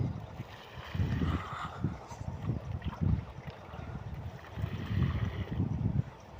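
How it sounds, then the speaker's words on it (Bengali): Water runs from a tap into a bucket at an outdoor washing spot, a steady splashing gush with a few louder surges, continuous throughout. "এখন আমি বালতিতে জল দিয়ে দেবো জামা কাপড়গুলো ধোয়ার জন্যে।"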